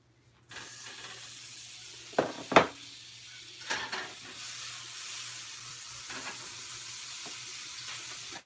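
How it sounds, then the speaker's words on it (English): Butter melting in a pan, a soft continuous sizzle and hiss with a few louder clanks and knocks early on, fairly quiet and with no voices. "I'm just gonna melt some butter."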